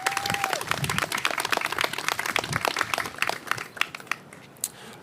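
Crowd applause at a ribbon cutting for the rebuilt Betsy Head Park, a burst of many hands clapping at moderate distance that thins out into a few scattered final claps, with a brief whistle-like tone near the start.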